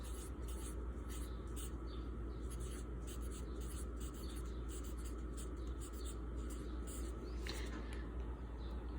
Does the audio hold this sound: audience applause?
no